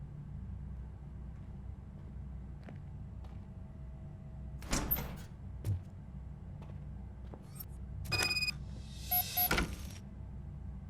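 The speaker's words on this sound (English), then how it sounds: "Now let me get that door open for you." In the game Robocop: Rogue City, a door opens with a couple of mechanical clunks and a sliding, grinding burst near the end, over a low steady rumble with no talking.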